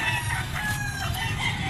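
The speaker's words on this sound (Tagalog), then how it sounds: "Maraming manok" Several roosters crow over a steady din at a pet market, their calls overlapping and continuous at moderate volume.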